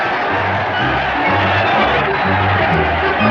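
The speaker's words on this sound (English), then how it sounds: "The crowd is going wild." A cartoon boxing-style fight plays out while a dense crowd roars and cheers continuously at a loud level, the steady hubbub filling the entire stretch without letting up.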